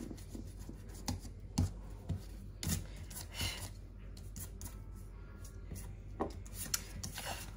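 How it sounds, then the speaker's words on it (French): Close, dry scrubbing of a rubber eraser over paper to remove pencil marks, in short irregular strokes with small taps and pauses between bursts. "je vais venir gommer toutes les petites traces de crayon"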